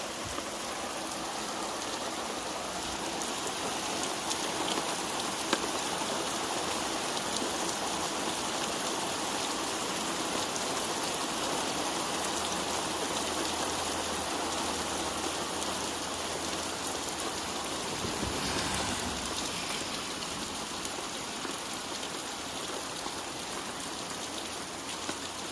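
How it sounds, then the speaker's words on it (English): Hard, steady rainfall hissing close by, a thick unbroken wash of drops hitting surfaces, with a brief dip in the downpour near the end and no talking. "It is really raining down hard right now."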